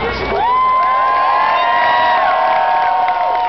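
A large outdoor crowd at a Stanley Cup championship rally in Anaheim cheers and whoops loudly for Chris Pronger, with high shouts and yells layered over a dense roar that swells and holds for several seconds.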